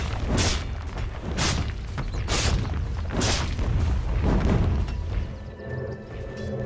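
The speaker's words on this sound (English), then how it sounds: "Dire's middle tower taking damage." During a Dota 2 match, a tower under attack takes a series of heavy booming impacts, about one every second, loud and close, followed by a quieter mechanical hum.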